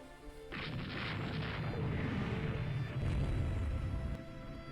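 Torpedo strike on a warship in the naval strategy game Rule The Waves 2: a sudden loud, deep explosive boom followed by a sustained low rumbling roar that holds for several seconds before easing off.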